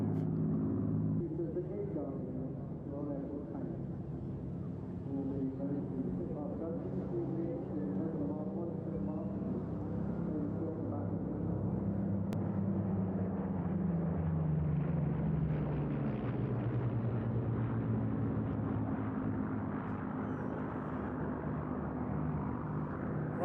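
A clipped-wing Spitfire Mark 16, TE311, built at Castle Bromwich, drones past at an airshow at Eastbourne as a steady engine rumble that swells and fades, with a commentator talking over it.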